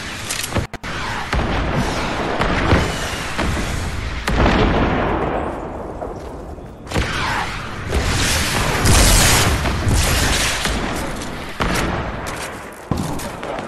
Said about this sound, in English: A lot of rockets going on here